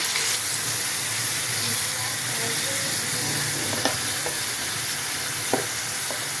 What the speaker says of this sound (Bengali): এবার আস্তে আস্তে আগুনে এটা ফ্রাই করব।